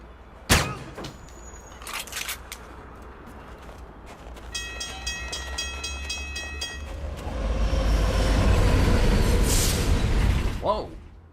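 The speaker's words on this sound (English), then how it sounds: "All he had to do was avoid the damn train, CJ." A train in the game Alpha Protocol rumbles closer and passes, with horn tones sounding midway and a heavy roar building toward the end, a few sharp clanks at the start, and speech faintly mixed in.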